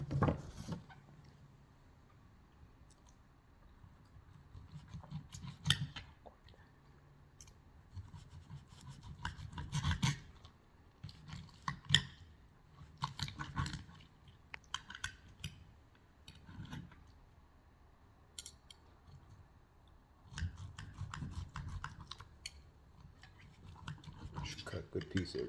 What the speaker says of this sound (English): Let's cut into it and see what it looks like.